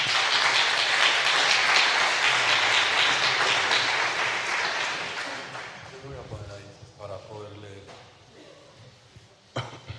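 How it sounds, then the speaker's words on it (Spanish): An audience gives a welcome round of applause at the presentation of Volume VI of María Zambrano's complete works, dense clapping that fades over several seconds before speech takes over. "yo les voy a pedir que me acompañen en un aplauso de bienvenida"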